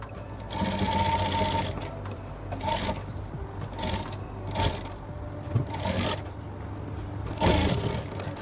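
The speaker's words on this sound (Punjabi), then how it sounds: "ਹੁਣ ਮੈਂ ਉਰੇ ਤੇ ਨਾ ਸਲਾਈ ਲਾਉਣ ਲੱਗੀ ਆ ਥੋੜੇ ਆਪਾਂ ਮੋਟੇ ਬਖੀਏ ਨਾਲ ਲਾਉਂਗੇ" A sewing machine stitches the neckline finish on a suit in uneven bursts of rapid mechanical chatter, with short pauses between runs, close and fairly loud.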